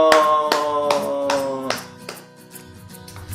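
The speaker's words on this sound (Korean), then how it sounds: "하나님께 감사와 영광의 박수를 드리겠습니다" A children's congregation at a church worship service claps in thanks, giving a short burst of sharp, fairly close hand claps that fades after about two seconds, with faint talk underneath.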